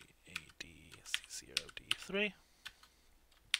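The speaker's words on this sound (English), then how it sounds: "see if I type this right" Quick clicking keystrokes on a computer keyboard during a HackTheBox exercise, close and fairly soft, with someone speaking briefly over the typing.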